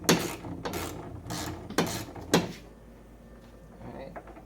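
Socket bolts being loosened and backed out of the clutch cover on a Polaris RZR 1000, a handful of sharp ratcheting and clicking bursts close by, then quieter handling noises.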